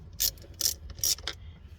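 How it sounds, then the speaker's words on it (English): A ratchet with a 10 mm socket loosens the negative battery terminal on a VW Touareg in four quick, crisp clicking bursts, close up and fairly quiet, with no talk. "you go to the negative side of the battery, you loosen that with a number 10"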